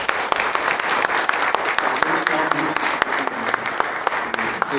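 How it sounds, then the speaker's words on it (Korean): Welcoming applause from a congregation at a church mission board's opening worship service for its general assembly, with a continuous clapping wash and sharp individual claps standing out, fairly loud and close. "우리 한번 환영의 박수로"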